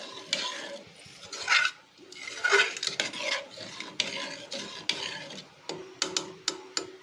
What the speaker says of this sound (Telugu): చిక్కగా ఉంది కదా, ఒకసారి గట్టిగా తిప్పుకుందామండి.